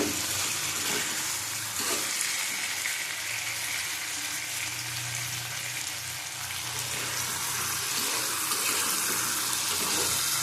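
Water pouring steadily into a pan of pabda fish curry with fenugreek, aubergine and potato, a continuous rushing splash that holds at a fairly even level from start to finish, no voices.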